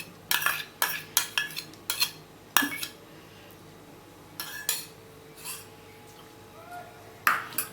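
A spoon clinks and scrapes against a pan while ghee is added for millet-flour sukhdi, a run of sharp metallic taps and knocks up close, spaced irregularly with quiet gaps, no voices.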